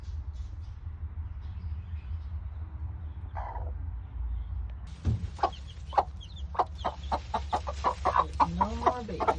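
A hen clucks softly as newly hatched chicks peep in a backyard coop, with a low rumbling background; the peeps start thin and sparse, then come as a brisk run of chirps near the end.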